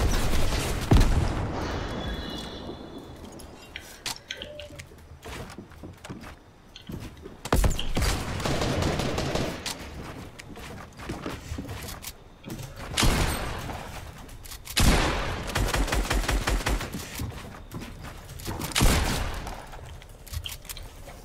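Gunfire in a Fortnite match comes in scattered bursts and single shots, loud and close at times, with clattering mechanical noises between volleys.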